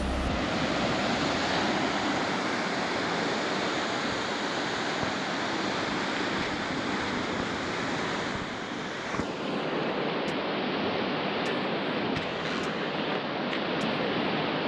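Ocean waves break and wash continuously at Piedigrotta near Pizzo Calabro, a loud, broad roar of surf mixed with wind rumble on the microphone, with no talking.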